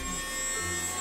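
A small handheld mini vacuum gadget runs with a steady electric whir and buzz throughout, close to the listener.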